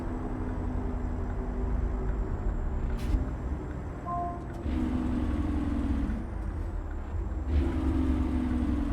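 A heavy truck in American Truck Simulator hauling a flatbed trailer with a light load runs its Jake brake, a steady low engine rumble with a faint tone, continuous and fairly close with no talk.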